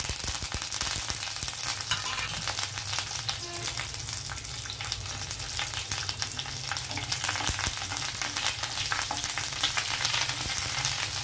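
Garlic, cumin, mustard seeds, dried chillies and curry leaves fry in hot oil, giving a dense, continuous crackling sizzle close by with scattered sharp pops. There is no talking.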